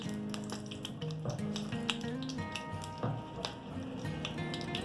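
Beef, peas and rice fry in a pot while being stirred, giving a steady close sizzle with soft scraping and squishing bursts and a low bubbling undertone throughout.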